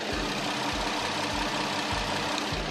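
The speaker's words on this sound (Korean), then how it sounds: "영상으로 엔진 소음 한번 담아보도록 하겠습니다" A large gasoline sedan's engine idles steadily with the hood open, a smooth, quiet low hum with a faint regular pulse and no belt noise, heard close up without talk.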